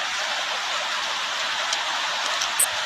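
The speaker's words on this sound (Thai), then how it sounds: "กินข้าวกันท่ามกลางสายฝนนะคะวันนี้ ฝนยังไม่หยุดเลยสองชั่วโมงกว่าแล้วตกอะ่ะ" Steady rain pours down around an outdoor meal in Thailand, a dense continuous hiss of drops on surfaces with a few brief louder splashes, no voices.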